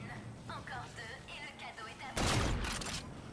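Ballistic rifle fire against zombies in Infinite Warfare, a loud burst of shots after a stretch of talking, ringing briefly before tailing off.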